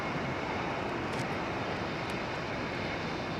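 A Singapore Airlines Airbus A380 at London Heathrow gives off a faint, steady, broadband jet roar heard from a distance, with no distinct changes across the moment.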